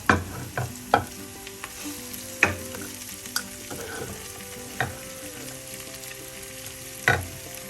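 Chopped snow peas stir-fried with softened onion in a pan for a Kerala thoran, a continuous sizzle broken by sharp spatula scrapes and clanks at irregular intervals.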